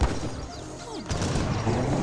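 Organ guns firing in a large Age of Empires 3 battle, a dense rattle of overlapping shots and booms spread evenly across the moment, busy and continuous with no clear pause.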